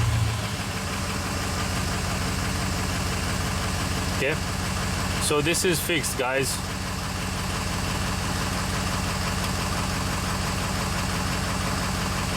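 A Ford E450 van engine runs at a steady idle throughout, with a brief burst of starter-like clatter mid-clip, while someone talks briefly over it.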